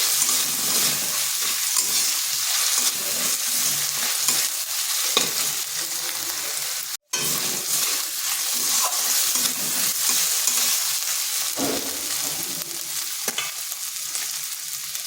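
Ginger garlic paste fries in a pan while being stirred, a continuous bright sizzle with scraping stirs, broken by one brief drop near the middle.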